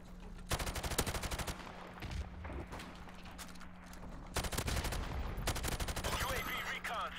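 Rapid automatic gunfire from a first-person shooter video game, loud sustained bursts of machine-gun fire with short gaps between volleys and a steady hum underneath.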